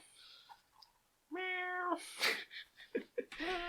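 A house cat meows for its breakfast indoors: one drawn-out, close meow, then a few shorter chirps and sounds in a quiet room.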